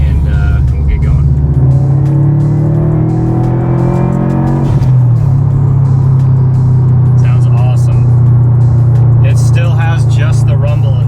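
A Subaru WRX with an HKS exhaust accelerates hard up through the revs, then shifts into a deep, loud, steady exhaust rumble while cruising, heard close from inside the car.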